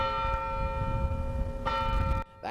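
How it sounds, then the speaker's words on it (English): An old courthouse clock tower bell strikes noon on a town square, its steady ringing tone sustained and reverberant, with a fresh strike near the end of the short excerpt. "the old courthouse clock is striking noon."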